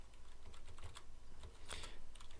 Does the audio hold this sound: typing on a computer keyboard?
yes